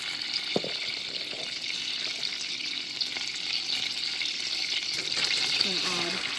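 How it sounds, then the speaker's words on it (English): Butter melting in a pan over medium-high heat gives a steady, moderate sizzle that runs throughout, with a few brief clinks and scrapes of a utensil near the start and end. "The butter is almost all done melting. I have it on medium-high heat."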